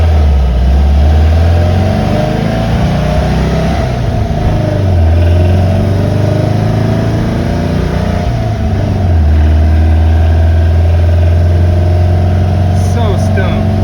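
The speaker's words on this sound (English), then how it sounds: "This thing's running so good." A 1967 Volkswagen Fastback engine running steadily at close range, a loud, continuous air-cooled rumble that dips and rises slightly as the idle shifts, with voices talking over it.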